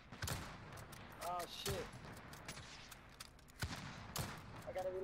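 Rapid bursts of shooter video game gunfire crackle through the scene, with sharp shots scattered across the span and a short voiced exclamation in between.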